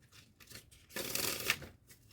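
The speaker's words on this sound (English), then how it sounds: "you can shuffle the cards" A short, soft riffle of playing cards being shuffled, a quick burst of papery flutter amid quiet, close to the microphone.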